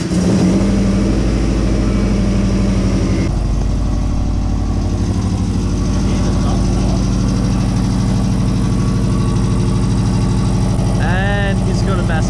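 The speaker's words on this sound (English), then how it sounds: "he's got a massive exhaust leak" A car engine idles roughly with a massive exhaust leak, a loud, close, chugging rumble with a ragged pulsing beat. Speech can be heard over it near the end.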